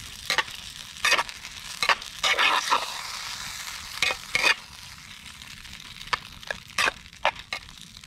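A Spam pot pie cooking over a campfire gets stirred, with a run of scraping, clattering strokes in bursts against a soft steady sizzle, close and clear with no talk.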